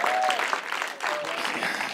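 A church congregation applauds Jasmin during a French-language service, a steady wash of many hands clapping that fills the room for about two seconds, with a brief raised voice or cheer rising above it.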